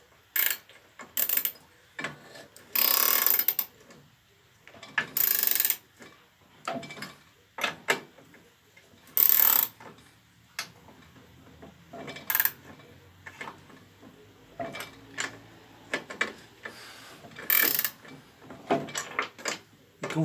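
A wrench tightens the cylinder head bolts on a Tecumseh engine, giving quiet, intermittent ratcheting clicks and short metallic bursts spaced irregularly, close by with little else around.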